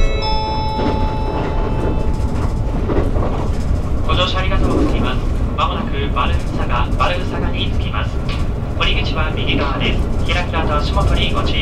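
A limited express train runs at speed near Saga, with a steady low rumble and rhythmic rail clatter heard from on board under continuous noise, a faint tonal whine at the start.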